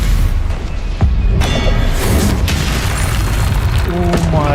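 A Confringo spell blast in the Hogwarts Legacy video game, a loud booming explosion with crackling debris, mixed with other spell effects and a person talking over it.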